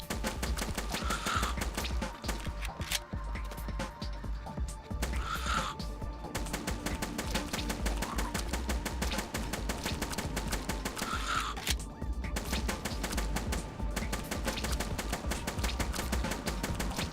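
Rapid shotgun gunfire in the game Hordelicious, a dense continuous barrage of blasts with a few sharper bursts standing out, loud and close throughout.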